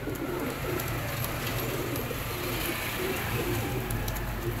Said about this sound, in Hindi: उड़ने वाले कबूतर हैं